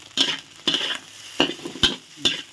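Chopped shallots stir-frying in a hot pan for egg fried rice, with five distinct sizzling bursts as the shallots are tossed and stirred, each crackle fading between strokes; close and fairly quiet, no talking.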